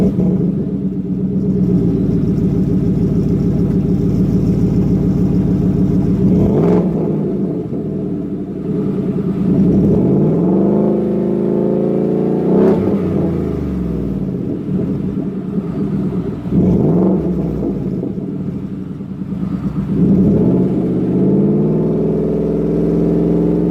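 Ford F150 with a 5.0L V8 and aftermarket exhaust revs repeatedly from a deep rumbling idle, each rev swelling and falling back, loud and close with no talk over it.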